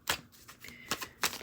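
A deck of tarot cards is shuffled by hand in a reading, giving three crisp riffling bursts at uneven intervals with lighter flicks and taps between them, close and clear.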